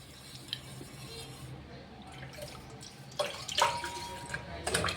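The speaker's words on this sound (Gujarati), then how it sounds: "એમાં આપણે આ ખાંડવાળું પાણી પણ નાખી દેવાનું છે" Sugar water is poured into a bowl of water with citric acid and sugar while making khaman dhokla; faint soft splashes and trickling come in short bursts near the end over a low background hum.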